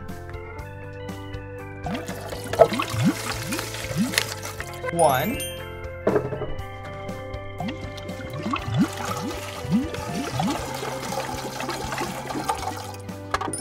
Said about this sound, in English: But first, we need water. Good thing I have a bunch of water. Let's fill it up.